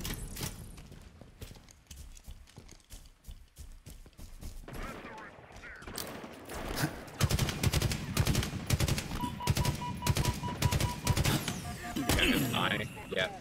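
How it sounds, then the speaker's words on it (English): Rapid bursts of gunfire crackle in Halo Infinite's campaign, with scattered single shots and sniper fire building into dense, loud volleys, while someone talks over the action. "a fucking sniper shot out of nowhere"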